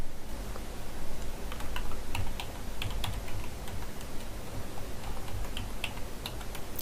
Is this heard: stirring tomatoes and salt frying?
no